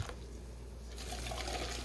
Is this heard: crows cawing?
no